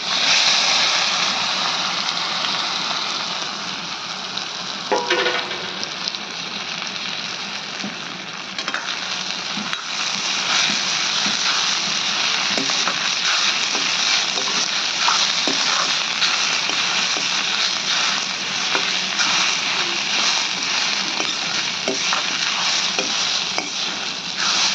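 Greens hit a hot tempering of cumin and mustard seeds in a pan on the stove, giving a continuous loud sizzle and crackle with occasional stirring scrapes, no talking.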